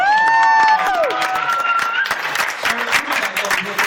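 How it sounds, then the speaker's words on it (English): Wedding guests applauding a toast, steady dense applause with a few cheers, while a voice speaks over the opening second. "How about a nice round of applause for this?"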